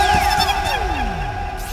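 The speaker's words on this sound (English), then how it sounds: "I'll put like some cool like lasers and stuff." A synthetic laser sound effect sweeps downward in a long descending zap over a steady electronic hum, close and fairly loud, lasting under two seconds.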